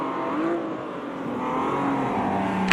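Race cars in a sim racing game braking and accelerating, a close engine whine rising and falling with revving pitch sweeps, ending in a brief louder burst.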